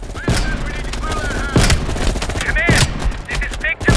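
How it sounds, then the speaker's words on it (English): Gunfire in Call of Duty: Black Ops Cold War, a sniper rifle among several sharp shots at irregular intervals, loud and near over a busy battlefield background with faint whistling tones. "You readied your sniper rifle to assist."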